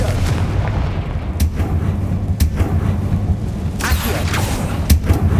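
Confringo blasting spell detonating in the Hogwarts Legacy video game, a steady rumble of dull booming impacts with several sharper bursts, loud and continuous with no voices.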